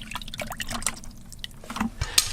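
Thin, watery head gasket sealant diluted with three quarts of hot water is stirred in a container, giving soft continuous sloshing with small drips and splashes close by.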